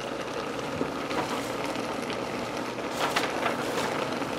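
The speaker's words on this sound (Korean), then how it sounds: "센 불에서 이렇게 국물이 바글바글바글 끓는 소리가 들리시죠?" Broth for a Korean radish side dish bubbles at a rolling boil over high heat with the lid off, a dense, steady crackle and fizz of bursting bubbles close up, with no talking.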